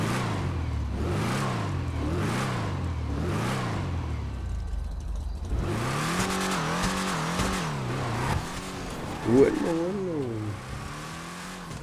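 A tuned Vapid Peyote Gasser in GTA V revs in repeated rising and falling engine swells, first alone and loud, then continuing under a brief spoken word.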